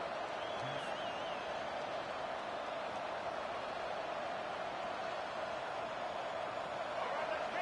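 Stadium crowd roar in the NCAA 25 college football video game, a steady, dense wash of distant cheering and noise holding constant without breaks.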